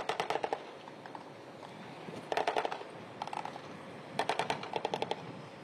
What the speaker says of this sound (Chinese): 车长立刻用机枪压制岸上敌军的火力